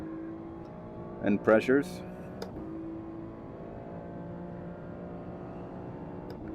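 Race car on its out lap just after leaving pit lane during a test race, a steady engine drone running throughout with a few brief louder bursts early on, under a voice speaking over the radio.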